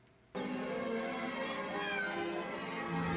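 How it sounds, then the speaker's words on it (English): Many cats meow together in an animated episode of The Sandman, a sudden loud chorus of overlapping meows and cries that continues densely after a quiet start. "Holy shit, that's a lot of cats."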